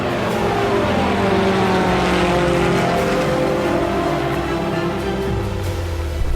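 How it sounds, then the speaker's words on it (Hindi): An Israeli Heron military drone flies overhead with a loud, steady engine drone and propeller buzz that holds at an even level throughout. "और उस आसमानी शिकारी का नाम है हेरॉन ड्रोन"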